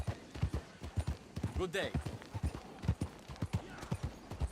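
Horse hooves clip-clop at a steady walking rhythm in the video game Red Dead Redemption 2, close and distinct, while a voice briefly speaks over them.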